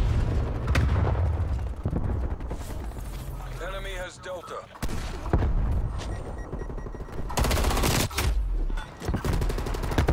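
Gunfire in the shooter Black Ops Cold War during a Domination match on the Cartel map: rapid bursts of shots and sharp booms come in clusters, close and loud, with game sounds filling the gaps.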